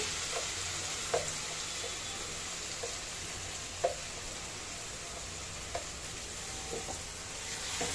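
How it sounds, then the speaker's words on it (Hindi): Chopped onions sizzle steadily in a pan with garlic, ginger and chili paste, a constant frying hiss broken by occasional soft knocks of a spoon stirring. "दो 3 मिनट हम अनियन भूनेंगे इस मसाले के साथ"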